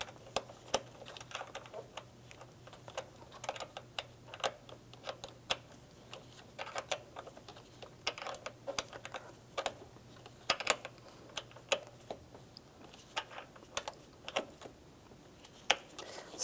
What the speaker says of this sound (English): we'll take the 8mm wrench, tighten the nut down